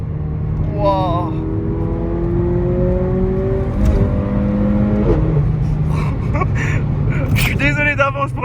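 A Mercedes A45 AMG engine revs under full acceleration, its note climbing steadily and loudly, with a gasp and excited talk over it.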